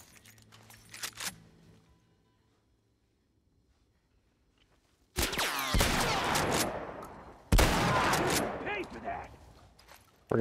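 Shotgun fired in The Last of Us Part I, two loud, sharp blasts a couple of seconds apart, each followed by a clattering tail, after a quiet stretch with an earlier burst of noise.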